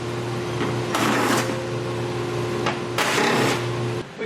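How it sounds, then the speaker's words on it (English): Two short whirring bursts of a power tool driving an 8mm socket remove fascia bolts on a 2017 BMW X5, each about half a second long and separated by a steady background hum. "There's going to be 3 on each side that we're going to take out with our 8mm socket."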